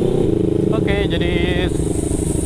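A Kawasaki Ninja fitted with an aftermarket exhaust idles loudly up close, a steady throbbing rumble, while a person speaks over it.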